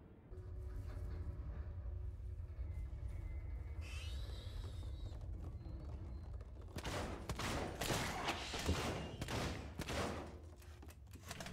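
Gunfire in the video game Alien Isolation, faint at first and then rapid bursts of shots rattling close over a low rumbling background.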